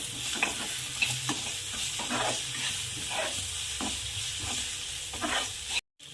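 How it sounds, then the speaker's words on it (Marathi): A spoon stirs Maggi masala through a sizzling mixture in a pan for sevai upma, giving a steady frying hiss broken by repeated scraping strokes, close and alone, ending in a brief cut of silence. "यामध्ये आपण मॅगी मसाला ॲड करणार आहोत तुम्ही गरम मसाला कोणताही यूज करू शकता छान आता याला मिक्स करायचं"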